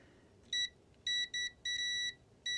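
Multimeter continuity beeps while probing the contacts of a stuck contactor from a 1977 Lennox condenser unit: five short, sharp tones in an irregular pattern, one noticeably longer, loud and close over a faint hum.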